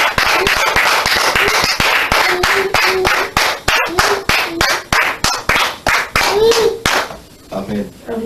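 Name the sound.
congregation clapping and acclaiming the Lord in church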